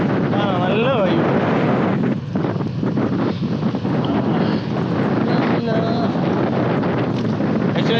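Strong wind roars across the microphone throughout a cycling ride toward Valparai on a rainy hill road, a constant loud rushing with faint voices underneath.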